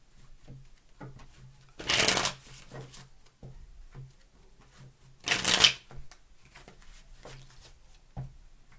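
Tarot cards being shuffled, two distinct riffle bursts, close and fairly quiet, with soft handling rustles and faint background murmur between them.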